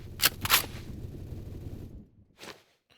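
Gunshots in the Roblox shooter Phantom Forces: two quick sharp shots close together, a short rumbling tail, then one more fainter shot, with no talk.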